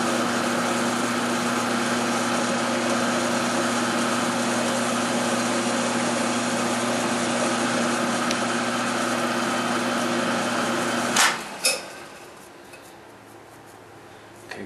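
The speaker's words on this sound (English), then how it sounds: "Looks like I'm cutting steel." A power tool grinds steadily through steel for several seconds, then cuts off with a clatter, leaving quiet room noise.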